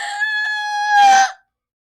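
A person imitates a rooster crowing with one drawn-out, harmonic cock-a-doodle-doo call lasting about a second and a half, loud and close, ending in a rough, breathy tail before silence.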